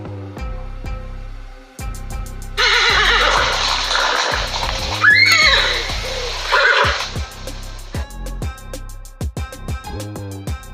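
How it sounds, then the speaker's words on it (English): A horse lets out one loud, quavering neigh that rises and then trails off, heard up close over steady background music with a beat. "Horse."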